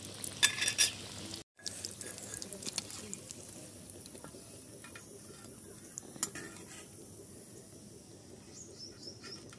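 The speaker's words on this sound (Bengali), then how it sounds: "এবার তাদলটাতে বেসনে চুবিয়ে গরম তেলে ছেড়ে দেবো।" Pointed gourd chops dipped in gram flour batter frying in hot oil, a soft continuous sizzle and crackle close by, with a brief sharper burst at the start and a short dropout, then an even bubbling hiss.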